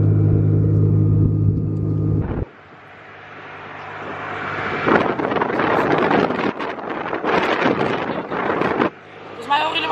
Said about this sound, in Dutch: Maar het waait hard.